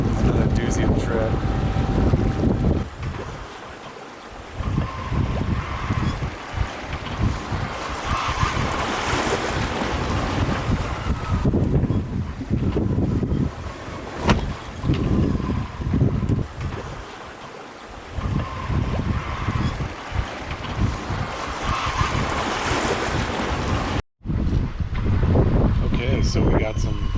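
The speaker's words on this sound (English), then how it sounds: "So we got some nice wind out of the northwest, just pushing us home." Steady wind and rushing water at sea aboard a sailboat under jib with the motor off, a constant loud roar with surging wave swells and buffeting microphone wind noise throughout.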